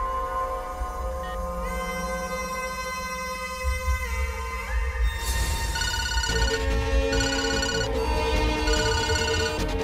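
A telephone ringtone plays steadily and loudly, a bright electronic melody that keeps repeating with rising and shifting tones, heard alone with no talking.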